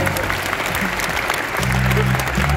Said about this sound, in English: Round of applause for Jimmy as he jumps on the stage.